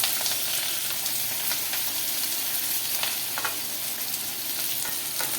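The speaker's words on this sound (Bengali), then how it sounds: "এবার ওই তেলের মধ্যে দেবো পেঁয়াজ কুচি" Chopped onions fry in hot oil for chilli chicken, a loud, steady sizzle with crackling and faint stirring scrapes throughout.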